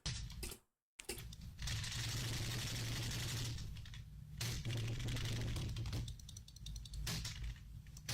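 Rapid clattering keystrokes on a computer keyboard, close and fairly loud, running almost continuously with a brief pause near the start and a low hum underneath.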